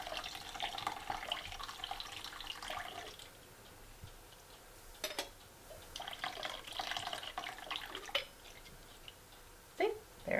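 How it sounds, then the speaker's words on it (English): Liquid strained out of homemade old-country cottage cheese, running and dribbling in intermittent bursts with pauses and faint background sounds. "Strain a little bit of the liquid out."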